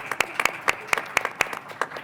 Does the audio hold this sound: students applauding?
yes